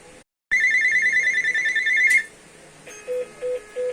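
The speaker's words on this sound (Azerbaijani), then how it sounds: "Fikir verin, qudok verir." Continuous tone from a Panasonic KX-TG1611 cordless home phone under repair for faulty buttons, a steady loud tone for about two seconds, then quieter short repeating beeps.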